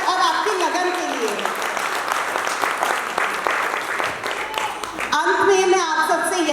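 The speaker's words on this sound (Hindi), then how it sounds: "एक बार जोरदार तालियां हो जाए आप सबकी मेहनत और आपकी लगन के लिए।" A ceremony audience at a company launch event applauds loudly and continuously, a dense wash of many hands clapping, with music rising near the end.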